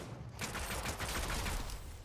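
Rapid pistol fire in the Fortnite video game, a dense, continuous burst of shots running steadily for about two seconds with no talk over it.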